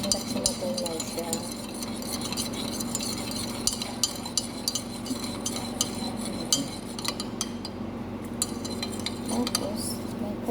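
A stain-remover soap mixture is stirred in a container of water, a steady stretch of close, busy swishing broken by small clinks of the spoon against the side, with no voices.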